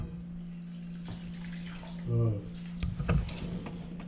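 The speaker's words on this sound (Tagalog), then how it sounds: "atin ito ibubuhos dito sa bowl kung saan nakalagay yung ating mga hita ng manok" Chicken inasal marinade splashes and pours into a bowl of chicken thighs over a steady background hum, with a short wet burst and clatter near the end.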